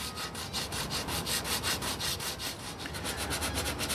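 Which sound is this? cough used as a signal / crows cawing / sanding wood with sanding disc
sanding wood with sanding disc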